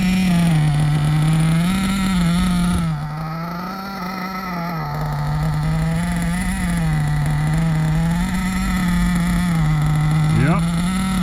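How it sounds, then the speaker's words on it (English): A Hobao Hyper SST .30 nitro RC engine running during break-in drones steadily and loudly throughout, its pitch wavering slightly as it idles and strains for air, with a brief rising whine near the end. "That's that engine trying to breathe."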